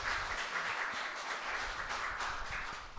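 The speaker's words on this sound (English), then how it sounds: "Give them another round of applause," An audience at a town center singer-songwriter night claps and applauds, a steady wash of many hands sustained for a few seconds before tapering slightly at the end.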